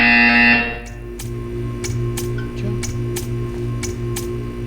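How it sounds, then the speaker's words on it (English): A loud tone sounds at the start and then cuts off. After it, sharp regular clicks tick at an even pace over a low mechanical hum, like an in-game buzzer and timer in the video game Portal 2. "You will hear a buzzer. When you hear the buzzer, stare at the art."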